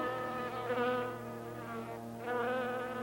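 Bees buzzing in a continuous droning hum that swells and dips in loudness, close and clear with no voices.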